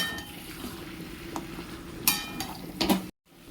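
Roasted cumin and coriander spice being stirred into a vegetarian papaya and soybean dish in a pan, with soft scraping and clinks of a utensil against the pot, a couple of sharper knocks near the end.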